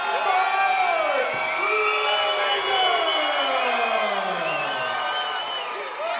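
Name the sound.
crowd cheering at a fight announcement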